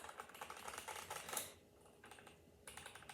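Rapid typing on an unlubed mechanical computer keyboard, with close, crisp keystrokes in quick bursts, a brief pause midway, then a fresh flurry of clacks.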